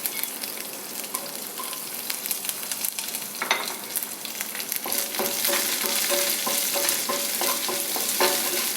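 Chopped small onions drop into hot oil in a pan for a plantain erissery, with the sizzle jumping louder halfway through and staying steady, broken by scraping stirs and utensil taps close by.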